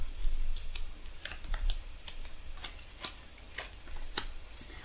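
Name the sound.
cutting a deck of tarot cards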